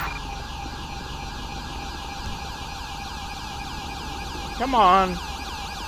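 Wailing ambulance siren in Grand Theft Auto 5, a steady rising and falling electronic tone running throughout, with a brief nearby voice and a louder swooping whoop near the end.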